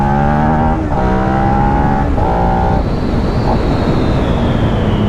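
A 2016 Suzuki SV650 motorcycle accelerates hard in first gear, its engine note climbing in pitch through quick revs under heavy wind noise, loud and close.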